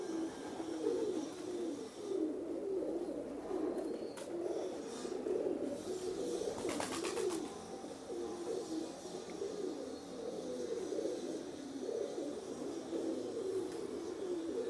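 A compact Teddy pigeon coos in a low, rolling, repeated murmur that carries on steadily throughout, close and moderately quiet, with no talking.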